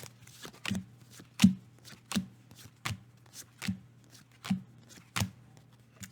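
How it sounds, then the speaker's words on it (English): Tarot cards being shuffled by hand, a series of about nine crisp riffling slaps at an irregular pace, close and moderately quiet with a low steady hum beneath. "So I'm going to shuffle"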